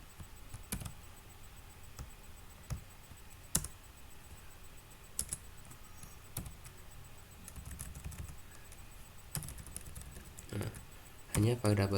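Computer keyboard typing while code is copied and pasted for a basic programming assignment, with scattered key clicks and short bursts of taps close to the mic under quiet background noise.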